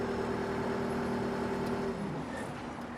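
A TCM L13-3 small wheel loader's diesel engine idles with a steady low rumble and faint tonal whine, then the pitch dips slightly near the end; no talking.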